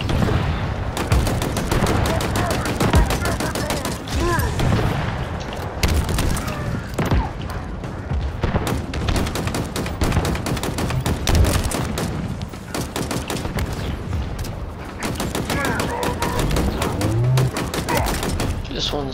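Rapid sci-fi laser weapon fire in the Halo Infinite campaign, dense repeated bursts and volleys from several guns, loud and nearly continuous, with booms and a voice talking at times underneath.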